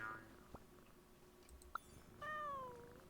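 A cat character in the game Genshin Impact gives a single short, clear meow near the end, preceded by faint clicks and soft background game ambience, quiet overall.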